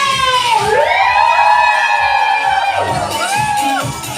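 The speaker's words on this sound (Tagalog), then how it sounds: "That's the crowd that I'm talking about right now" A wedding crowd cheers and whoops together, a loud sustained chorus of rising and falling voices, with a second swell of shouting near the end.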